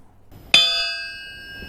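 A stainless steel bar used as a rifle barrel, struck once at the chamber end with a sharp clang, then a clear metallic ring with steady high overtones that slowly fades.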